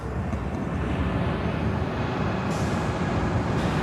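A JetBlue Airbus A220-300 jet airliner at Chicago O'Hare gives off a steady, moderately loud engine rumble and rushing noise, continuous without voices.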